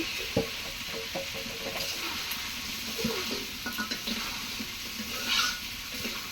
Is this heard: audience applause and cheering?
no